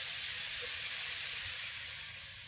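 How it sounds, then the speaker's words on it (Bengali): Sago fries in ghee in a pan while a milk pudding is made, a steady broad hiss that stays even and fairly loud, then fades slightly toward the end, with no voices. "এবার ঘিয়ের সঙ্গে সাবুটাকে প্রথমে একটু ভেজে নিচ্ছেন"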